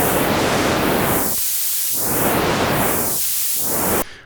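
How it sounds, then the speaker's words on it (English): Broad hissing noise from the variable noise source of a Polyend Dreadbox Medusa synthesizer, sweeping up and down in tone, swelling and thinning in slow waves, then cutting off abruptly. "you have a variable noise source"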